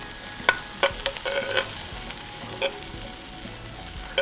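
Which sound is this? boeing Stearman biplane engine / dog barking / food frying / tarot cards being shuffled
food frying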